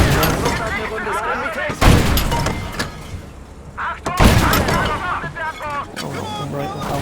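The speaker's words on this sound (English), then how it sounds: "The crew compartment's just at the front here, so we want to pop a few rounds in" Gunfire aimed at a tank's crew compartment in a video game comes as loud bursts of shots and heavy thumps in two main clusters, over a player's voice talking through much of it.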